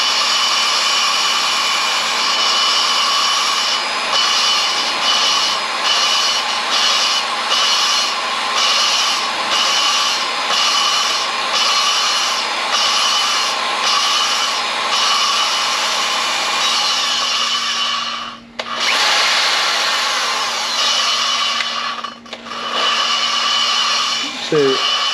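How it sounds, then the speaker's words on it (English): A power drill spinning an engine valve for lapping on a 2006 Chrysler 300 SRT8 engine, a loud, steady high whine with rhythmic pulsing, briefly cutting out twice near the end. "So I got my drill chucked up, got that sitting in the valve,"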